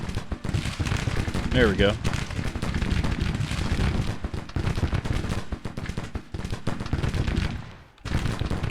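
Civil War artillery firing in the strategy game Grand Tactician, a loud continuous rumble of booming cannon and crackling gunfire with someone talking over it, fading briefly near the end.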